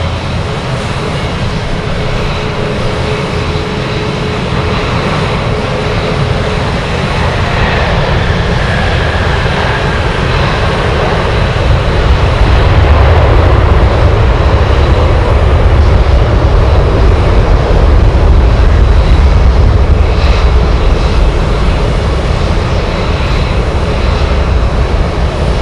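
A Boeing 747 Dreamlifter cargo jet at Anchorage airport makes a powerful, continuous engine roar that grows steadily louder and heavier, a dense rumble with no talking.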